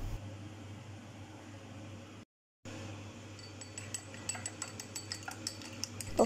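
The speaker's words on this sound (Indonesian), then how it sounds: "Lalu dikocok-kocok lepas." Eggs being whisked loose in a bowl for coating taro fritters (perkedel talas), a quiet kitchen hum followed after a brief cut by a fast run of light rhythmic clinks against the bowl.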